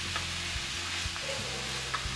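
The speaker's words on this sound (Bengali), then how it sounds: "এবার আমি আগের থেকে ভেজে রাখা আলু সেগুলো দিয়ে দিলাম। দিয়ে একটু ভালোভাবে নাড়াচাড়া করে" Fried mutton and potatoes are stirred in a pan, with a steady low sizzle under a spatula that scrapes in regular strokes about every half second, close and moderately loud.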